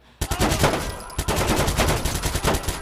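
Rapid gunfire bursts out in Watch Dogs 2, loud and close, a dense run of shots with a short break before a second sustained volley.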